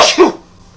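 A single short, sharp sneeze bursts out close by and dies away within a third of a second, followed by quiet.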